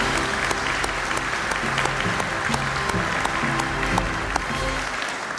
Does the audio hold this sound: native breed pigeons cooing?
no